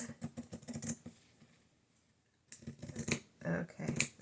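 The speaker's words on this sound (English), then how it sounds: "so let's cut, see if I can cut a straight line." Scissors cutting paper for a mini bird junk journal, close crisp snipping in quick bursts, a quiet pause, then more rapid cuts.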